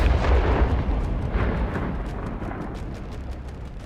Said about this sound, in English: Moments later, ammunition inside the wrecks exploded.